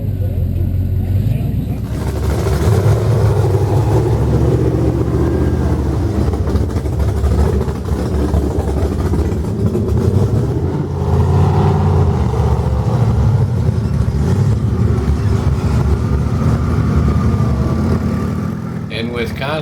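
An off-road vehicle crawls over muddy rocks on the Mesabi Trail, its engine rumbling and revving steadily up close for the whole stretch while someone talks over it.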